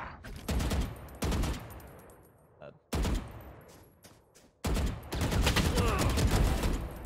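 Gunfire in a shooter video game comes in loud, sharp bursts of rapid shots, broken by short pauses, with a voice talking faintly underneath.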